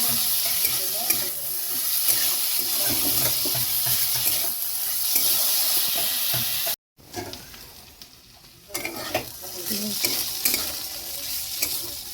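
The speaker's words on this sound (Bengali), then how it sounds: "কুচনো আলু দিয়ে বেশ ভালোভাবে নাড়াচাড়া করে নিয়ে" Chopped potatoes stirred in hot oil with browned onions in a pan, a steady loud sizzle with scraping stirs, a brief dropout midway, then sizzling and stirring resume, no talking.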